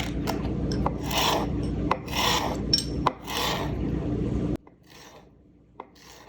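A knife slices vegetables into strips for a Christmas veggie platter, producing a series of close, gritty, rasping cutting strokes in a steady rhythm, then falls nearly quiet with a few faint taps.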